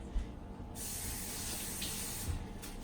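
Filtered water poured into a batch of fresh pineapple juice, a steady broadband hiss of liquid running for most of the clip, fairly close, with a couple of soft low thumps.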